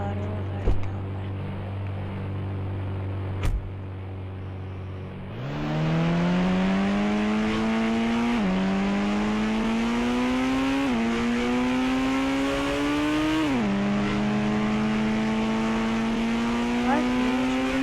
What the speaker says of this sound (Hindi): चलो भाई को अपनी गाड़ी में बैठता हूँ मैं।